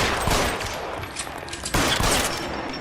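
Rapid bursts of video game gunfire, loud and close, with dense overlapping shots and a fresh burst starting midway; no talk over it.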